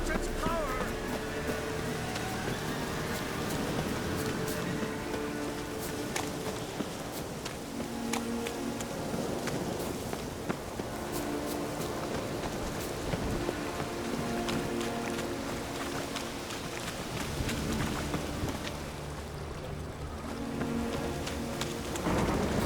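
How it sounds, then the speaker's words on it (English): Stormy weather in The Witcher 3: steady rain pours throughout with occasional low rumbles of thunder, a dense continuous wash under a musical score. "A storm, damn it."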